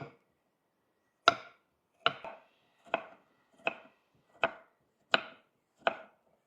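Tomatoes are chopped for gravy with seven sharp knife strokes on a board, evenly spaced about a second apart, close and crisp with silence between.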